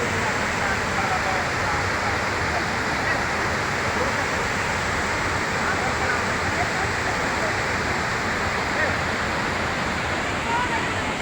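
Rushing water pours continuously over a village check dam with a broad, steady roar, like a spillway or weir close by, unchanging throughout.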